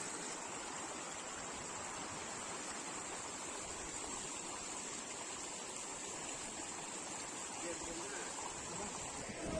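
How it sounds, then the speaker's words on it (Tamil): A village river runs fast and swollen after fresh rain, making a constant, even rushing of water heard from a little distance. A voice is faintly present underneath. "இப்போ பார்த்தீங்கன்னா இதுதாங்க எங்கள் ஊர் ஆறு."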